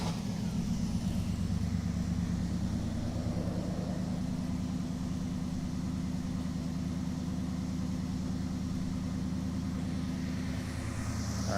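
A Dodge Charger crew cab build runs at a steady, low, droning fast idle, moderately quiet and even throughout, with no talking.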